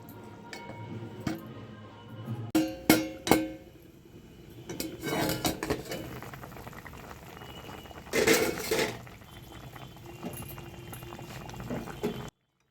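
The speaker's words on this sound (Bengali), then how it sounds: "ঢাকনাটা খোলা হয়েছে ঝোল ফুটে গেছে" Fish curry broth bubbles at a boil in a pan, with lid and utensil clatters rising over the steady simmer, including a longer burst of clinks partway through; no one speaks.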